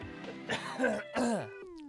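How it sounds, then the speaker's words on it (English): Someone coughs several times in quick, rough bursts, close to the microphone. "Cough, cough, cough, cough, cough."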